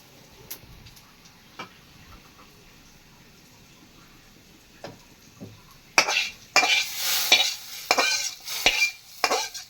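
Onions for sambar going into a pan, a few faint scattered clicks followed by loud sizzling frying with repeated scraping stirs, heard up close.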